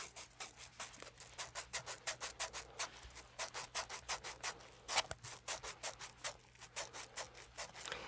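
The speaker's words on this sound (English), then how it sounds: "I'll just start this process by filing some of these down." A nail file rasps across fingernails in quick, even back-and-forth strokes, soft and close in a quiet setting, keeping a steady rhythm for the whole stretch.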